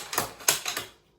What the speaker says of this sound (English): magazine off, magazine on, bolt forward